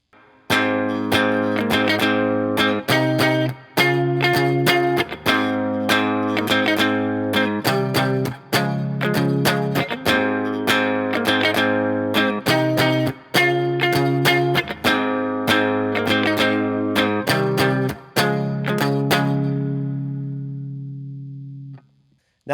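Electric guitar with distortion, chorus and reverb plays the riff of iann dior's Holding On, strummed chords repeating in a steady loop for about twenty seconds before the last chord rings out, loud and close with no talking.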